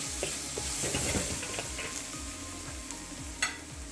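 Green onions sizzle in a hot stir-fry pan alongside deep-fried halibut, a steady broadband hiss with soft stirring scrapes and occasional clicks of a utensil against the pan.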